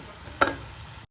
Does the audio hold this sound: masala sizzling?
yes